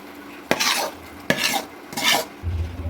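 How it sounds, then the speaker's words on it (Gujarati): A spoon stirs churma ladoo mixture of crushed churma in a pan in three distinct scraping strokes, close and fairly loud, with no talking. "સારી રીતે બધું મિક્સ કરી લઈશું।"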